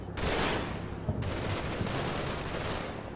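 A heavy burst of sustained gunfire from the Combat Mission: Battle for Normandy war game roars loud and dense, a rolling fusillade with a sharp break about a second in.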